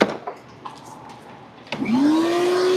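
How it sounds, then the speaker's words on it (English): A vacuum cleaner runs in a garage during an A/C compressor installation on a motorhome: a few clunks and knocks, then the motor switches on and its whine rises and holds loud and close. "let me vacuum this real quick"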